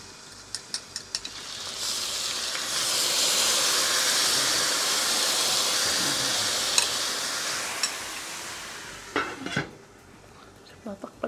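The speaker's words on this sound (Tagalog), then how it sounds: "pagluto na itong mixture na ginawa natin" Enoki beef roll mixture cooks in a pan: a broad, steady sizzle swells in and holds for several seconds, framed by sharp metallic clinks and scrapes of a utensil against the pan near the start and end.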